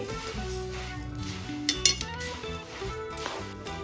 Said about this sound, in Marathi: आता इथे मी तीन वाटी मुरमुरे ऍड करून घेणार आहे पाकामध्ये आणि छान मिक्स करून घेणार आहे